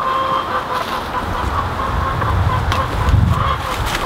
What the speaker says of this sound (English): Let's see if we can sneak up on the Icelandic chickens.